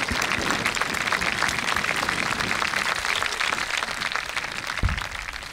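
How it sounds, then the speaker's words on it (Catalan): Sustained clapping from a crowd at an outdoor town festival concert by a dance orchestra, greeting a young dancer. Steady, dense applause runs the whole length, fairly close and loud. "fort aplaudiment per la nostra ballarina"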